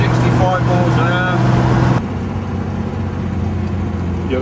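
A 1967 automatic Alvis with an added overdrive cruises at 65 mph and about 2,500 rpm, its engine and road noise a loud steady low drone throughout, with someone talking over it in the first half.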